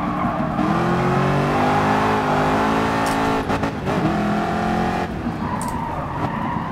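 Racing car engine in the Gran Turismo Sport video game, loud and continuous with rising and falling revs and sliding tire squeal throughout, no talk.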